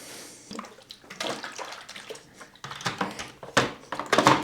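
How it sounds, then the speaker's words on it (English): Water is poured into the tank of a DREO TurboCool misting fan, making irregular splashing and gurgling up close with uneven bursts and trickles. "Remove the screw, fill up with water,"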